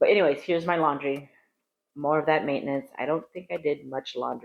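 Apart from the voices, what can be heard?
No everyday noise stands out behind the speech.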